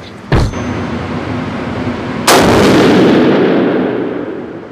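Rifle firing Hornady ammunition at a range: two loud, sharp close-up shots, each followed by a long rumbling decay, with no voices.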